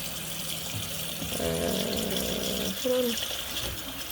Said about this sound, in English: So I'm washing my chicken with vinegar.